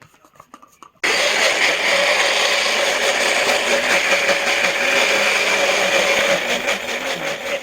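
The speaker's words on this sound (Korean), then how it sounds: "양파 가는 거야?" A blender grinds onion for radish kimchi seasoning, starting abruptly after a second of quiet clatter and then running as a loud, steady, close whirring roar that eases slightly at the end.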